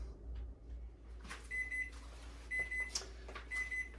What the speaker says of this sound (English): now hear the beep, come back in, flip